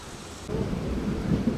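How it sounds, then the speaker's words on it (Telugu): Heavy rain rumbles with thunder on a hydrogen train journey from Sonipat to Jind, a dense roar that jumps louder partway through the short stretch and carries on without speech. "వర్షం అయితే మొత్తం దుమ్ములేస్తుంది ఈ పక్క"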